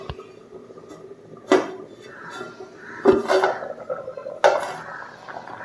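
A lid is lifted off a simmering pot of Kalava (Azhuka) fish curry cooked without oil. Three distinct metallic clanks of the lid against the pot ring out close by over a low background.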